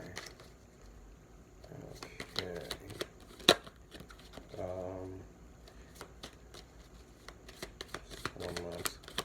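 Tarot cards being shuffled and drawn by hand, with a run of soft riffling and slapping bursts, one sharp snap, and brief quiet talk in between.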